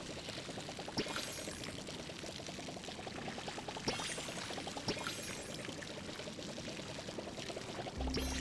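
Watering crops in the farming game Palia: a continuous pouring, splashing water sound runs steadily for several seconds at moderate level with no talk, followed by a brief tonal chime at the end.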